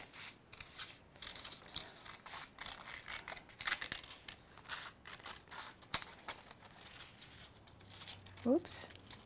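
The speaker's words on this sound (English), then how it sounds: "And we cut it out." Scissors snipping out a paper shape for a children's collage art lesson: a steady run of close, crisp cutting clicks and paper rustles, with a voice speaking intermittently over them.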